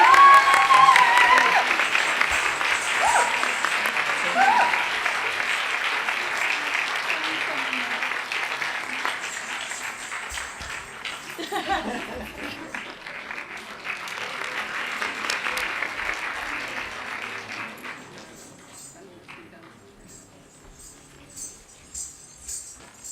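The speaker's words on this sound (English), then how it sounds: "can we have a round of applause for Jay Auntie?" Audience applause at a Bharatanatyam arangetram in Birmingham, UK: sustained clapping from a seated crowd that gradually thins and fades into scattered claps and quiet.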